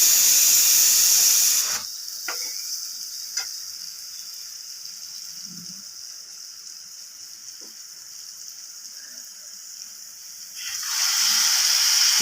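Water poured into a hot pan of frying potatoes gives a sudden loud steamy hiss that settles into a long, quieter sizzle, then swells again near the end; no voices.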